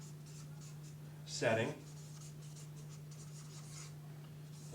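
A pen scratches on paper while drawing a diagram, soft rubbing strokes over a low steady hum, with a single spoken word cutting in briefly.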